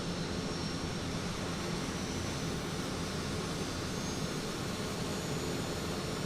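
The twin turboprop engines of a Piaggio P180 Avanti in Microsoft Flight Simulator drone at a steady idle, a dense, continuous roar with an even whine, heard from outside the aircraft with no talking.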